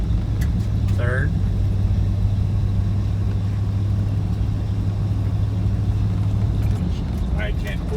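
A 1987 Chevrolet Suburban accelerating in third gear, its engine a steady low drone throughout, with a few short voices and noises over it.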